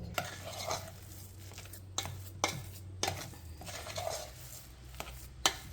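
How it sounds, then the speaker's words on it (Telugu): Soft-cooked rice mashed in a pot with a spoon for a festival sweet, giving soft scraping stirs and several sharp clinks of the utensil against the pot, with no talk. "మెత్తగా ఉడికిన అన్నాన్ని ఇట్లా స్మాష్ చేయాలి."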